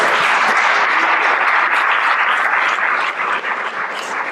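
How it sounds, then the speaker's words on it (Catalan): Audience applause at an awards ceremony in Salt: thick, loud clapping that holds steady and then thins slightly near the end. "Haig de dir que no confiava en l'aplaudiment, per tant, moltíssimes gràcies."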